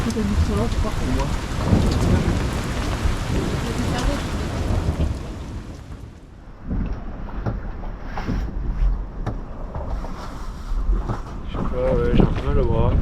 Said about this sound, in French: Globalement il pleut un peu je crois.